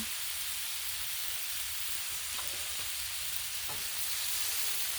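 Pasta sizzling on a Blackstone griddle alongside hamburger meat, a constant bright frying hiss with a few soft clicks and scrapes, close and steady with no talking.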